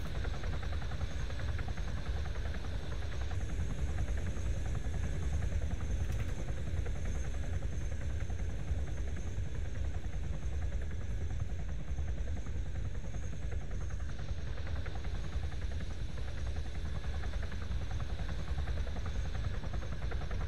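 A troop-carrying helicopter in Arma 3 thrums steadily with a constant rotor and engine drone, loud and unbroken throughout.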